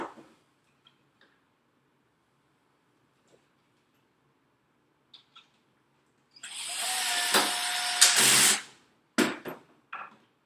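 A power drill on a low torque setting drives two screws into a plastic assembly. After a quiet stretch with light ticks, a loud whirring burst of about two seconds comes first, then a second, shorter burst close by.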